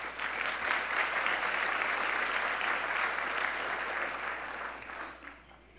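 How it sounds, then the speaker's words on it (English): An awards-ceremony audience gives a sustained round of applause, dense and even for several seconds before tapering off near the end, with a low hum beneath. "Please give them a round of applause."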